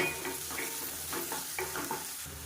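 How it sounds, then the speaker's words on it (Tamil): Onions sautéing in salted oil in a pan for a chicken dish, a continuous close sizzle with frequent stirring clatters and scrapes over a short span, no voices. "இப்போ இது எல்லாத்தையுமே நல்லா வதக்கி விடலாம்"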